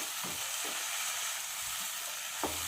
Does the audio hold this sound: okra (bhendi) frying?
yes